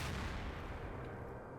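A video game M203 grenade launcher round explodes in Garry's Mod with a loud, close boom that rolls into a long, dense rumbling decay lasting over a second, heard alone without voices.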